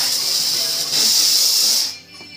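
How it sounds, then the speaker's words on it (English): Steam hissing from a defrosting tool blasting built-up ice, a loud steady close-up hiss that holds for about two seconds before cutting off sharply. "See, I got some steam now."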